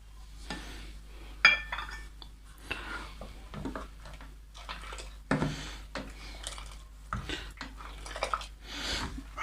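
Kahwa is stirred into pink Kashmiri tea, with a spoon clinking and scraping against a pot in irregular bursts over a low hum.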